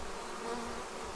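A honeybee swarm crowds the front of a hive entrance, filling the air with a dense, steady, close buzz of many wings.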